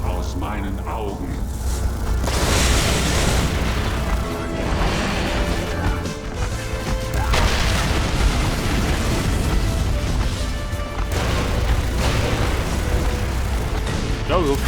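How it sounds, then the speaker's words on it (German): Laser beams fired from the eyes in Far Cry 3 Blood Dragon, heard as a dense, continuous roar of blasts and crashes with loud explosive bursts throughout. "Und ich schieße Laserstrahlen aus meinen Augen."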